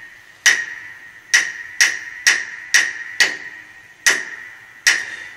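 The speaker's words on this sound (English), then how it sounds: "This is a particularly resonant sound on this piano, I use this quite a bit." A bowed piano gives sharp, resonant knocks as its frame or case is struck, about eight ringing metallic taps in a loose, uneven pulse, close and alone.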